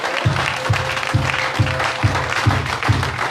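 A church congregation at a fourth anniversary service claps in a steady rhythmic beat, about two claps per second, loud and close, with the hall's reverberant murmur underneath.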